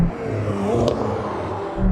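A McLaren 765LT supercar engine pulls hard under acceleration, a loud steady rising roar with a brief high whine partway through, heard close from inside the car with no talking.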